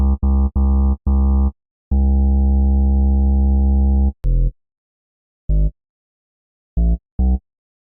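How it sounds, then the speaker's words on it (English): Synthesized bass built from a shaped harmonic waveform with boosted alternating partials: a run of short pulsing notes, one long sustained tone, then sparse brief stabs with gaps of silence, loud and alone. "So to create our bass sound, we need to create a shape like this."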